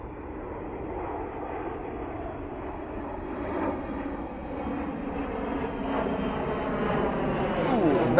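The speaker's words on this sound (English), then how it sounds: "But anyway, it's a KC-135." Boeing KC-135 tanker aircraft flying over RAF Mildenhall, a steady broad jet engine roar that swells gradually louder as the plane approaches.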